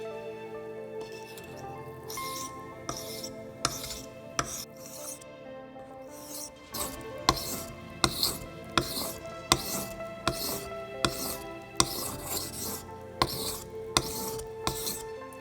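A knife blade slides over the 6000 grit polishing side of a whetstone in repeated smooth, rhythmic strokes, each ending in a light tap, close and moderately quiet against a faint tonal background.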